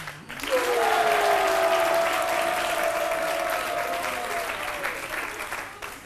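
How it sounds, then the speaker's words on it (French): A studio audience at a French television talk show bursts into loud, sustained applause, the clapping swelling quickly and holding steady before tapering slightly near the end. "Applaudissements bien nourris pour la hashtag Pakpato Alissa Zena"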